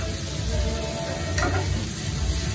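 Garlic tossed in a hot pan gives a continuous close sizzle with a brief scraping swirl partway through, with no talking.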